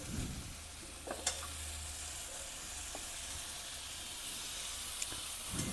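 Rohu fish frying in a pan sizzles steadily as tomato pieces are dropped in, a soft continuous hiss with a few light clinks and taps over it.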